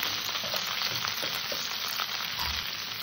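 Okra, pumpkin and potato curry sautéing in a pan with turmeric and salt, a steady close sizzle with faint scraping stirs throughout, no voices.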